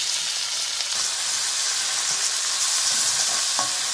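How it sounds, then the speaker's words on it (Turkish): Chopped onions frying in a pot in leftover chicken broth for a Georgian-style boiled chicken dish, a steady close sizzle and hiss with a few scrapes of stirring. "Soğan ekleyip kavuralım."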